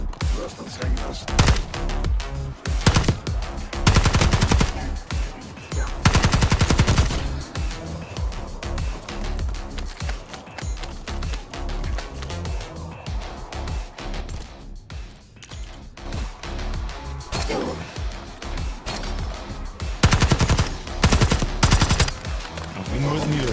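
Gunfire in the video game Call of Duty Black Ops 6, dense bursts of automatic fire and loud shots running almost continuously, with people talking over the action.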